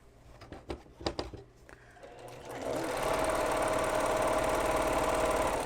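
A sewing machine stitches quilt blocks, starting with a few short stop-and-go bursts and handling clicks before settling into a steady, fast, even whir that runs close and loud to the end.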